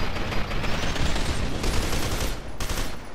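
Dense gunfire in F.E.A.R. 2 with a sniper firing, as sharp cracks sound over a constant loud roar of battle, and the volume stays high throughout.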